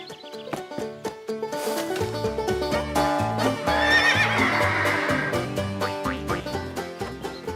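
A cartoon horse whinnies loudly over a busy musical backing on a farm, with light clopping hoofbeats mixed in throughout.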